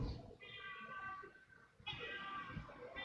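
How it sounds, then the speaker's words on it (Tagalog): A cat meows inside a church during a Sunday homily, two drawn-out, wavering meows separated by a short pause, moderately close over a low murmur of room noise. "O yun na, may pusa."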